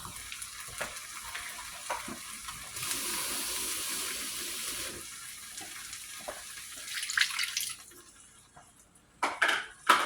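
A kitchen tap runs water into a cup for a few seconds, a steady close hiss and splash that stops abruptly. Quieter clinks and kitchen handling noises sound before and after it.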